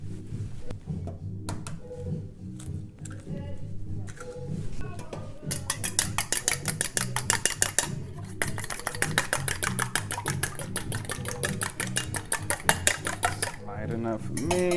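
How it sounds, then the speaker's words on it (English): Whisk briskly beating eggs in a bowl, a fast rhythmic clatter of wire against the bowl that starts after a few scattered clinks and keeps going for several seconds, close and clear. "Now what I'm about to do is lightly beat these eggs real quick."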